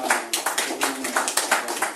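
An audience applauds a man who stands during a talk, a brisk, close burst of many hands clapping with no voices over it.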